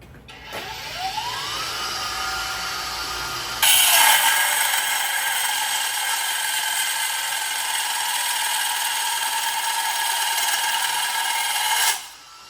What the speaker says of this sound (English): this is going to be able to cut number 8 rebar in about 4 seconds